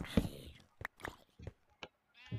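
Blocky sheep in the video game Minecraft bleat several times in short, separate bursts over a quiet background, with a voice briefly speaking at the start.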